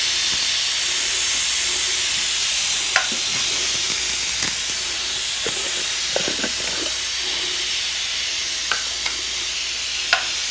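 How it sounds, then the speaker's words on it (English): A pressure cooker of beef stew hisses steam in a steady, loud, broadband rush, with occasional small clicks and taps over it and no talking. "It's a steaming."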